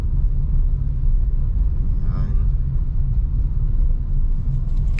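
Steady road traffic with trucks, heard from inside a moving car on a morning road trip: a loud, continuous low engine and road rumble, with a voice speaking briefly over it.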